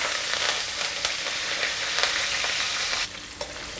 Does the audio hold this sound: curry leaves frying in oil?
yes